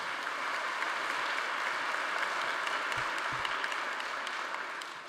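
Applause fills an athletics board awards gathering, a broad, even roar of many clapping hands sustained for about five seconds before tapering slightly at the end.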